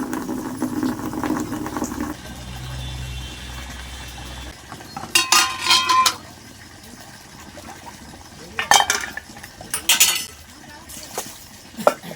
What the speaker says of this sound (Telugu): గిన్నెలన్నీ బయటపడేసుకొని తోముతున్నాను అనమాట